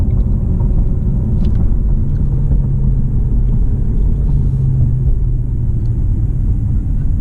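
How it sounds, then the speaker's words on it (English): BMW 650i engine, heard from inside the car, a loud, steady low rumble with brief revs as it downshifts, continuous throughout. "Catch a little downshifts."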